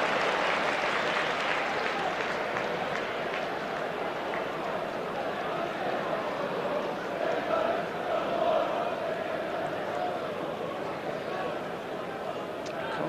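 A football crowd roars and applauds without pause at Elland Road during a 1991/92 First Division match between Leeds United and Coventry City, a dense, loud wall of cheering that swells slightly midway.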